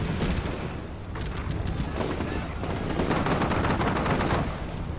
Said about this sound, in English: We've got some pretty crazy machine guns.